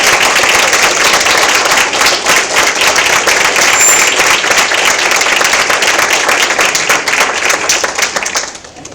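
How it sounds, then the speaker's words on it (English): A church congregation breaks into loud, sustained applause, dense overlapping clapping at steady strength that fades out in the last second, with no talking over it. "give her a round of applause as Reverend Becky Whitehead comes up"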